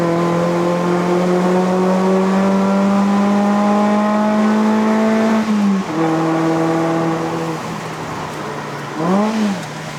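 The 1.6-litre engine of a ZC32S Suzuki Swift Sport with a six-speed manual gearbox climbs steadily in pitch under throttle on a Genting mountain road in Malaysia, then drops sharply, followed by a short blip of revs.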